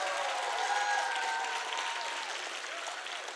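An audience at a classical Indian dance arangetram gives a round of applause for the dancer, a dense, sustained clapping from a seated crowd with faint sustained musical tones underneath, gradually easing off.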